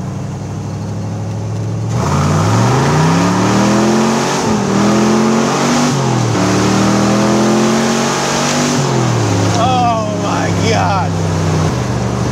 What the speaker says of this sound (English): Let's do one acceleration run here. We need one acceleration run. Here's first gear.